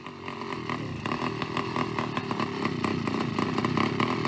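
A motorized bicycle's small two-stroke engine buzzes loud and raspy like a chainsaw, revving in quick pulses throughout, close by and unbroken, with no talk over it.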